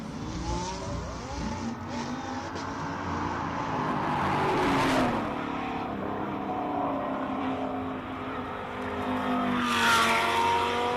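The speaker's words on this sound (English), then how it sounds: "Beautiful pink Lamborghini that we have here." A pink Lamborghini Huracan race car at a hill climb, its engine note rising and falling through gear changes as it accelerates past, loud and sustained with revving peaks, no voices present.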